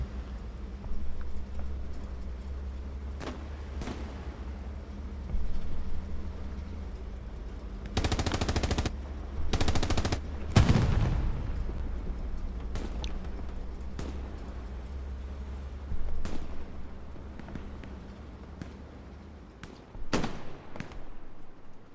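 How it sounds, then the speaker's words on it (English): A shotgun blast nearby in the World War II shooter Hell Let Loose, one of several loud, sharp bursts and rattling volleys scattered over a steady low battlefield rumble, with no talk. "Shotgun blast nearby."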